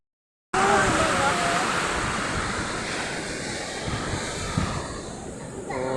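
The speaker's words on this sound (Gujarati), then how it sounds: "દરિયાની વેળ" Sea waves wash onto the shore at Gopnath beach, a steady loud roar of surf and wind rushing close to the microphone for several seconds.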